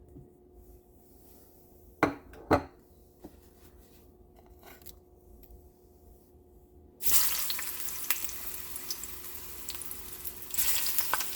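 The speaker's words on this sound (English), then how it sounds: "You see how the plantain just glided in the oil?" Plantain slices sliding into hot oil in a home kitchen, a couple of sharp knocks early, then a sudden loud, continuous sizzle that carries on steadily to the end.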